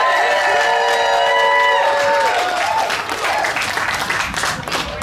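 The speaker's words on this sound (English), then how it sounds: "And over to you, Sam, with this round of applause." Lively crowd applause and cheering at a music and poetry festival, loud claps mixed with whoops and a sustained vocal cheer at the start, tapering slightly toward the end.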